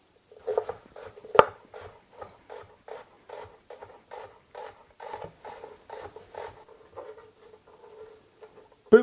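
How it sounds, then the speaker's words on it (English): A knife thinly slicing red onion on a board: a steady run of about twenty crisp, evenly spaced chops, close and fairly quiet, with no talk. "So red onion, what you need to do, very thinly sliced."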